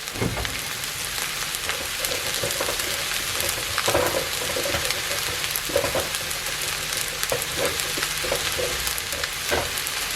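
Eggs frying in a pan for homemade fried rice, a loud, steady sizzle and crackle running the whole time with occasional faint scrapes, close by and without speech.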